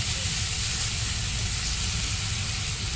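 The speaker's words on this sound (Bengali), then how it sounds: "এবার দিয়ে দিচ্ছি হলুদ গুঁড়ো দিয়ে মশলাটাকে আমি আরেকটু কষিয়ে নেব" Spice paste with turmeric powder fries in a pan for a paneer dish, a loud, continuous, close sizzling hiss with no pause and no talk.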